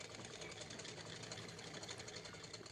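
A sewing machine runs a loose basting stitch through suit fabric, giving a steady, rapid, even whirr that stays low and uninterrupted, with no talking.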